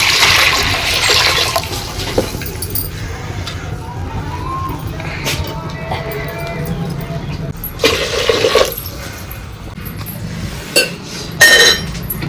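Water is poured into a clay pot to make tea in a village kitchen, splashing and gurgling up close amid clinks of utensils and pots.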